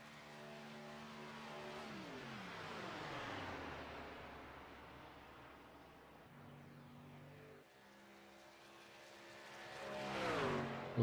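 A DSR electric race truck, number 85, lapping a Las Vegas track, its motor whine rising and falling in pitch as it approaches and passes, with a louder surge near the end.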